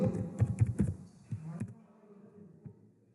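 Quick bursts of keystrokes on a computer keyboard clatter close by in an irregular run, then thin out to a few isolated clicks and quiet.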